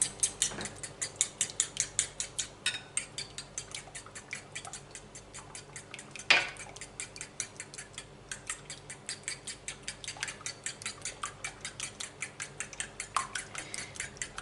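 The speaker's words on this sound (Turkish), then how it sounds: "Güzelce çırpıyorum." Eggs seasoned with black and red pepper are whisked in a bowl, giving a fast, steady series of light clicking taps against the sides, close and quiet, continuing throughout.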